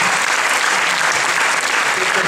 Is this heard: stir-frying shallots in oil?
no